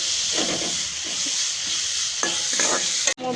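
Vegetables such as cabbage and carrot frying and sizzling in a pan while being stirred, a steady close hiss broken by scraping, clattering strokes of a spoon against the pan and a sharp knock near the end.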